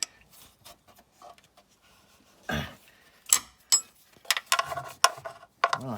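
Hand wrench working brake bolts loose on a 2010 Ford Transit van, giving scattered metallic clicks and ratcheting taps in short uneven bursts, close by with quiet gaps between.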